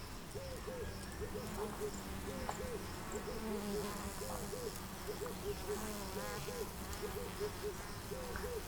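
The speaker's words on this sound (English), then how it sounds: "Can you hear the buzzing yet? Because they're quite buzzing." Many bees buzz at beehives in a Kenyan apiary in a steady, low hum, with soft repeated hooting calls in the background.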